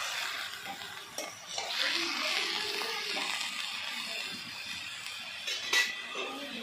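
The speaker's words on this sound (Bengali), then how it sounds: "এবার আমি একটু খুন্তি দিয়ে নাড়াচাড়া করে নিচ্ছি।" Leafy greens stirred in hot ghee in a pan with a metal spatula: a steady soft sizzling hiss with scraping, and a couple of sharper metallic clinks near the start and toward the end.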